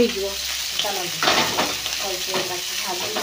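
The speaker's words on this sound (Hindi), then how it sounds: "तेल टे पकईदबा आगे माछटा" Fish pieces frying in hot oil for a masala fish fry, a steady close sizzle with occasional stirring bursts and crackles.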